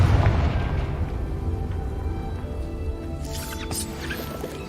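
A Confringo fire spell explodes in the Hogwarts Legacy video game: a heavy low boom opens the clip and decays into a long rumbling tail, with a brief bright crackle near the end.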